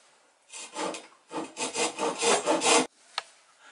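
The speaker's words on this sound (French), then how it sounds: "Voilà, et tu fais deux ou trois traits de scie." A hand saw rasps through wood in two bursts of quick back-and-forth strokes, close and fairly loud, followed by a single sharp tap.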